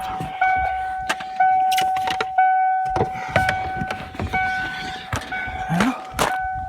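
A 1994 Ford Ranger pickup engine runs rough, revving unevenly as throttle is applied, with a steady whine under irregular knocks and sputters close by.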